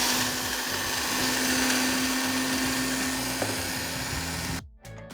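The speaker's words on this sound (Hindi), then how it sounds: "ये हमारा बिहारी कबाब मसाला, इसको थोड़ा सा पीसना है।" An electric grinder pulverises a Bihari kebab spice mix of roasted chickpeas, red chilli powder, deghi chilli and whole coriander. It gives a loud, steady whirring roar that cuts off abruptly just before the end.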